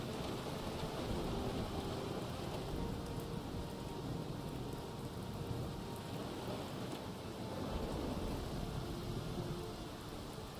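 A thunderstorm in the submarine game UBOAT: steady heavy rain and a deep thunder rumble roar on without a break for the whole stretch, dense and loud, with no voices.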